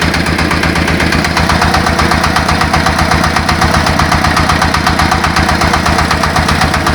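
A mini tractor converted from a walk-behind tractor idles steadily nearby, a loud, even chugging rumble with a rapid regular pulse and no voices.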